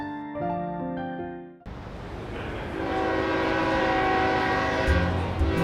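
Train sound effect in a horror cartoon: a loud horn blast gives way to a steady rumble of rolling rail cars, with another low horn tone near the end.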